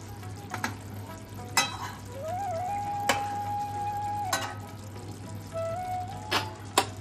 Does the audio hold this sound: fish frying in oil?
yes